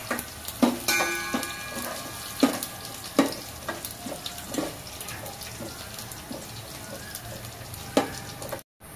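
Garlic and cumin seeds fry in hot oil for Marathi varan, giving a quiet, steady sizzle broken by scattered sharp crackles and pops. No one speaks.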